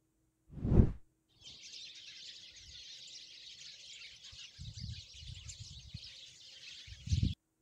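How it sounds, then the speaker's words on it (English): A sparrow gives a steady, high, buzzy stream of chirping calls lasting several seconds, with a few faint low thumps beneath. "Sparrow."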